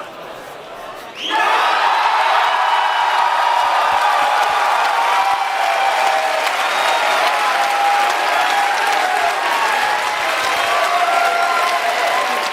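A large convention crowd at the PAX East 2019 Borderlands 3 reveal bursts into sudden, loud applause and cheering that holds steady and sustained for over ten seconds.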